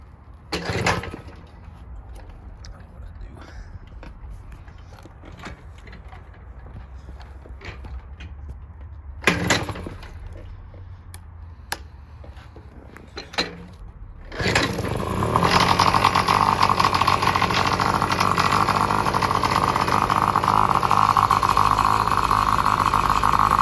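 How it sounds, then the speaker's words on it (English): A small vintage Tomos moped engine sputters with a few short bursts, then catches and settles into a loud, steady buzzing idle up close. "I'm going to show you it idling here really quick"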